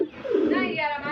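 A pigeon coos briefly from a pigeon box being cleaned and rearranged, a soft close warbling call.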